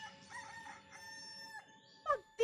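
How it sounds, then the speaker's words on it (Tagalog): A rooster crows in a rural setting in Antique province, Philippines, its call rising in a few strained harmonic bursts near the end over quiet background ambience. "Pagtilaok ng manok sa probinsya ng Antique."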